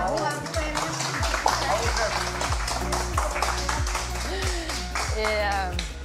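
Studio audience and guests clap together after a charity cooking lesson on a French TV show, a dense steady patter of hands mixed with music and voices.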